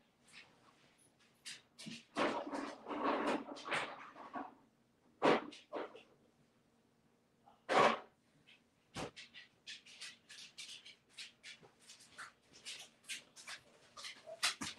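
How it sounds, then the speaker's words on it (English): A dog panting and snuffling close by, quick uneven breaths and shuffling that come in clusters with short quiet gaps, faint and alone with no voices. "speaking of a barking dog"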